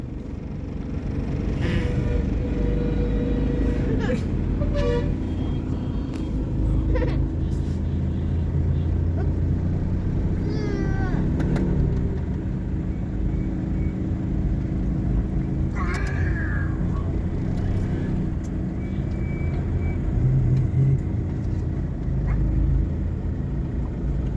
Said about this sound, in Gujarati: ટ્રાફિક જોવો